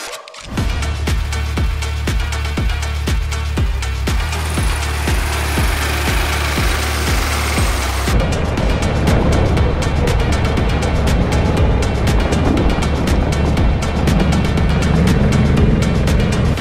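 Go-kart engines rumble at the Go-Kart Avenue track in South Jakarta, a loud pulsing idle with a throbbing rhythm that shifts to a rougher, denser revving drone partway through.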